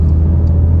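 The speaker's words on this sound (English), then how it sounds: "David is driving us home" A car driving home through slow traffic, heard from inside as a loud, steady low engine and road rumble with no talking.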